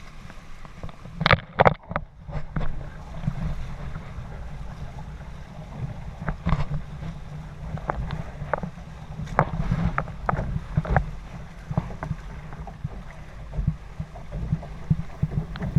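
A sailboat turning in Charlotte Harbor, with steady low wind and water wash under scattered sharp knocks and creaks of rigging and hull, fairly close and with no talk.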